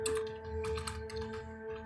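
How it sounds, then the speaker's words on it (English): Fingers tap a computer keyboard in quick bursts, a run of light close clicks with brief pauses, over a steady electrical hum and with no talking. "Sorry, I had to finish typing that"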